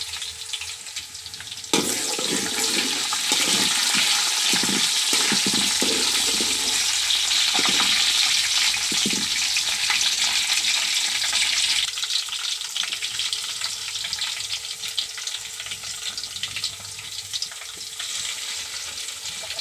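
Onions, bay leaf and cinnamon fry in hot oil in a pot on a clay stove, a steady loud sizzle and hiss that swells as the ingredients go in and then holds, with no talking.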